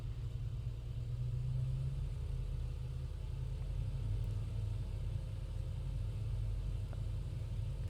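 Lockheed Vega 5 radial piston engine held at 1500 RPM during ground checks in a flight simulator, a steady low droning rumble that stays constant and fairly loud throughout, with no talk.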